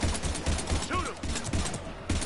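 Gunfire rings out in a Mass Effect 3 firefight against Husks, a dense run of fairly loud, rapid shots carrying on through the whole burst with a voice shouting over the battle.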